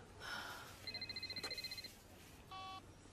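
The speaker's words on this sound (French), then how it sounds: "C'est mon téléphone." A telephone rings nearby in a hospital setting. It gives a trilling ring, then a short electronic tone after a pause, with no voices over it.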